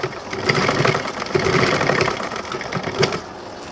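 A sewing machine stitches blouse fabric, folding a half-inch edge inward into a seam, with a steady close mechanical whir that surges and eases in short bursts over several seconds, with no voices.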